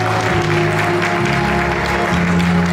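Wedding guests at a hotel ceremony clap as the bride and groom bow to each other. The applause is loud and continuous, with steady music tones underneath.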